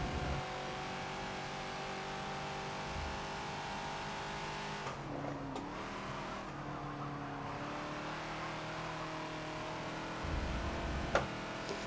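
A Ford Falcon XB's engine drones steadily at speed around the Silverstone GP circuit in Forza, with the pitch shifting as it brakes and then accelerates back onto the throttle, constant and near throughout.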